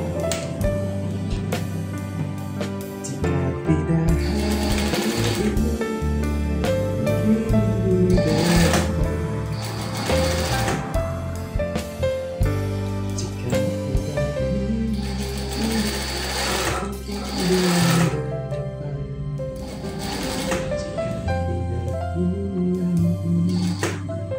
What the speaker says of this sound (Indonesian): Oke, kita jahit.